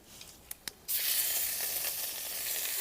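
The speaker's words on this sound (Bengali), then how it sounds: "কালো জিরেটা একটু নেড়ে চেড়ে দিয়ে দেব আদা বাটা।" Nigella seeds and ginger paste hit hot oil for a Bengali pabda fish curry: a few light clicks of stirring, then a sudden loud, bright sizzle that continues steadily and close, with no speech.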